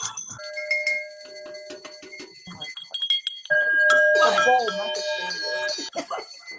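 Many hand bells ring at once during an online Zoom worship service, first as sparse scattered dings, then swelling into a dense, chaotic jangle of overlapping tones from many participants.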